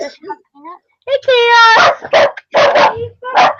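A small dog gives a string of high yips and sharp barks up close, with a brief whimper-like sound before them.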